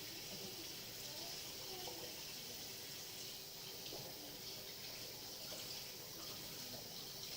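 Dishes being washed under a running kitchen tap with strong water pressure, a steady close hiss of flowing water with faint clinks throughout, no speech.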